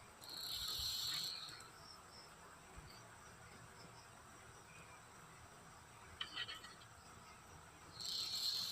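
A videoke player's mechanism spins with a faint, thin high whir that swells at the start and end, broken by a few light mechanical clicks in a quiet room.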